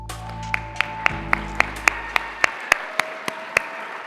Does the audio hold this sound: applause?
yes